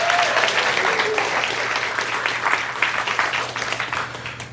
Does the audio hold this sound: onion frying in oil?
no